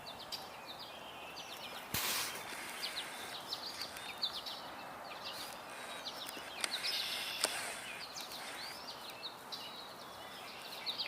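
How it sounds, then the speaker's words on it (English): Outdoors, red-winged blackbirds give repeated short chirps and calls at a moderate distance over a soft, steady ambient background, with a couple of sharp handling knocks. "Red-winged blackbirds there."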